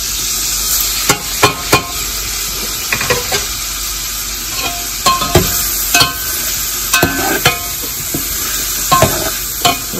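Beef (gosht) browning with spices in a little oil for beef pulao, a constant hissing sizzle broken by sharp, irregular spoon scrapes and knocks against the pot, close and fairly loud, no voices.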